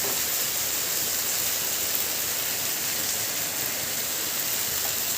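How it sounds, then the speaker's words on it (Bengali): Heavy evening rain on a kitchen roof, a dense, steady hiss of water with no breaks and no voices. "আমাদের এখানে সন্ধ্যেবেলায় প্রচুর বৃষ্টি হচ্ছে, তোমরা শব্দই শুনতে পাচ্ছ বৃষ্টি"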